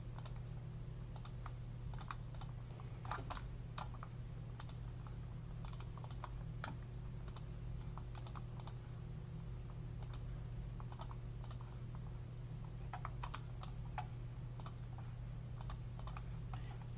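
Quiet, close clicking from a computer while working in the Unity editor, scattered single and double taps over a steady low hum, with no talking.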